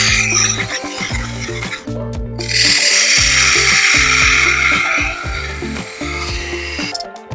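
A woodturning lathe tool cuts a small nub into spinning wood, giving a loud, steady whirring scrape with rhythmic low thumps and a brighter, harsher cutting hiss through the middle.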